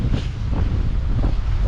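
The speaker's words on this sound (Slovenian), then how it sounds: "Imamo jugo, tako da gremo lepo z vetrom" Wind rushes over a Cyclades 50.5 yacht sailing downwind in a jugo near the coast in January. It makes a loud, steady roar and buffeting that fills the whole moment without pause.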